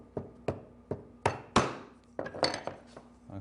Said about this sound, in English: So I have a 1/4 inch chisel that I'm using to cut and square the corners.